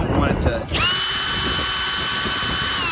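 A power drill removes a bolt from a fiberglass panel on an Integrity Paradise Spa outdoors. A few brief knocks give way to a loud, steady, close drill whine, with faint talk at the start.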